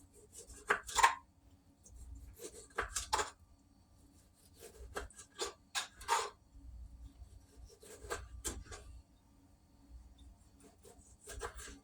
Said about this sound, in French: Là maintenant, je coupe ma tomate comme ça là.